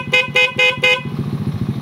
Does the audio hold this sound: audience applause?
no